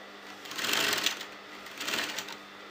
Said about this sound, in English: just pull the fabric little bit and then sew.